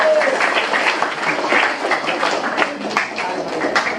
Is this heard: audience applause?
yes